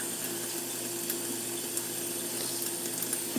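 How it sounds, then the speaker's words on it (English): Compressed air forces leftover water out of a tipped sublimation CISS ink cartridge, making a steady close hissing spray with a constant tonal hum and faint clicks. "if you tip it like this and you put air in there, it will blow out all that extra water right there"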